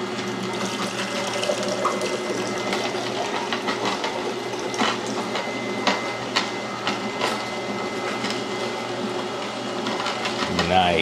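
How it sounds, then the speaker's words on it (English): A Hurom H400 slow juicer's motor hums steadily while juice runs out of the spout, a continuous mechanical drone with soft trickling and a few faint clicks throughout. "we're gonna have to start freeing this juice"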